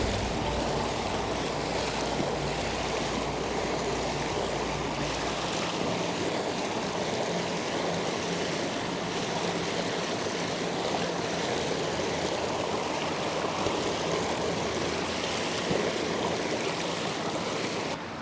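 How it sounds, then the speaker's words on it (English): A synthetic quilt is pushed down into a flowing creek, with steady rushing and trickling water carrying on unbroken throughout, close and fairly loud, with no voices. "I'm gonna go ahead and stick it in the creek"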